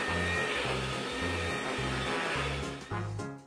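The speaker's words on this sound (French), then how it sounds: "On peut ramasser les autres jouets avec l'aspirateur." Vacuum cleaner with a child-size sock stretched over its nozzle, sucking up toys, running loud and steady close by with rhythmic low thumps beneath the motor whine.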